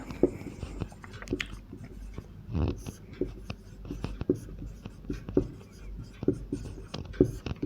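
Scratchy strokes of writing on a board during a class-10 physics lesson on concave mirror images, a steady run of short close scrapes and taps with faint murmuring in the background.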